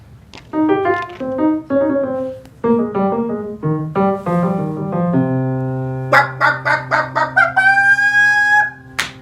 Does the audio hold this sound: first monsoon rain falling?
no